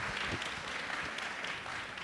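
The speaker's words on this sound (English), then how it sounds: "please give them another big round of applause" An audience gives a big round of applause for alumni at a university business school open house, steady dense clapping from a crowd heard at moderate distance throughout.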